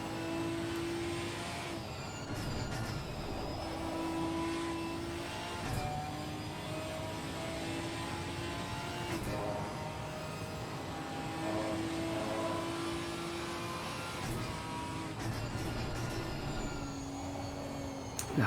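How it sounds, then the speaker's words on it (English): Onboard engine of a Ginetta race car at Spa, a steady high rev note with repeated sharp downshift blips and rising pitch sweeps, close and continuous with no talk. "Can we just go on board in the Ginetta, please, and listen to the downshifts?"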